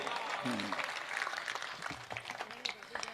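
An audience at a Hindi comedy show claps in a dense burst of applause, with voices talking over the clapping.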